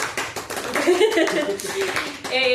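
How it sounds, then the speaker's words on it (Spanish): Audience at an anniversary show of a music programme clapping on request, light uneven handclaps mixed with people talking close by. "nuestro público, por favor, aplauso público"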